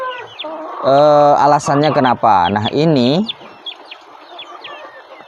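KUB chickens, about three and a half months old and kept free-range, cluck loudly and close by in a rapid burst of calls, with someone talking briefly at the start and end.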